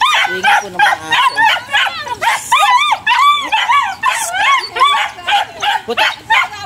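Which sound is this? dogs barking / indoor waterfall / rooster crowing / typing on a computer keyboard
dogs barking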